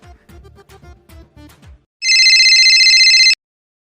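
An outgoing phone call begins with a series of short keypad or connection blips, then a loud electronic ringtone rings continuously for about a second and a half before stopping abruptly.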